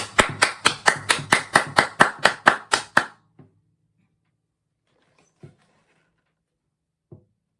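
Church congregation claps in thanks during a youth service: a crisp, even run of about a dozen close claps for three seconds, then near silence broken by a couple of faint ticks.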